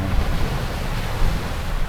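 Steady wind rushes across the microphone in a continuous low roar, with a faint wash like surf in the background.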